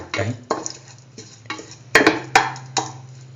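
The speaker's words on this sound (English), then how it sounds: "mash the potatoes and the" Cooked potatoes and chayotes are mashed in a pot, giving a series of soft squelching thuds and scraping knocks in an uneven rhythm, close and alone.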